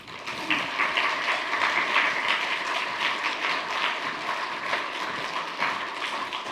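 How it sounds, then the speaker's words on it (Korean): A church congregation at a Sunday worship service claps warmly to welcome Pastor Byun Hyun-soo of Sarang Baptist Church, a dense, steady wash of many hands that holds evenly throughout. "우리 변현수 목사님 나오실 때 뜨거운 박수로 맞이하겠습니다"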